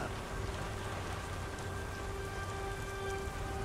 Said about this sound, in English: God damn rain. Don't look like it's ever gonna let up.